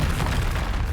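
Confringo fire spell exploding in Hogwarts Legacy, a loud, sustained booming blast with rumbling low end and crackling debris filling the full second.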